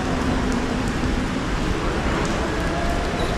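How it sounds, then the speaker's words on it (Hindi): Heavy rain falls during a morning train journey from Rawalpindi, a dense, even wash of noise that holds loud and steady throughout. "बहुत ही तेज़ बारिश हो रही है"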